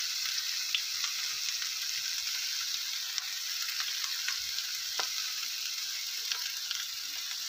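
Bottle gourd with slit green chillies, salt and turmeric frying in a pan, an even steady sizzle with faint scattered stirring clicks throughout.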